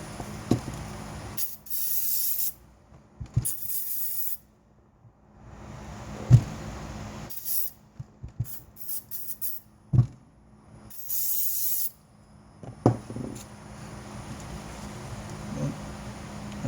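A coating is sprayed onto a Timpano TPT T2500 12-inch subwoofer during repair in short aerosol bursts. Several separate hissing sprays stop and start, with quiet handling knocks in the gaps between them.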